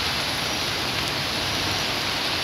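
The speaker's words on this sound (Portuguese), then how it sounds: "Chuva agora começa a cair um pouco mais forte aqui na Zona Norte" Heavy rain pours down outside a church stairway in Porto Alegre's Zona Norte, a dense, steady hiss of water that stays loud and unbroken throughout.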